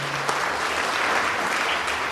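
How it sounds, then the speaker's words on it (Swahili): A church congregation breaks into steady, enthusiastic applause, dense continuous clapping from many hands that holds at an even level throughout. "Pigia Yesu makofi mazuri."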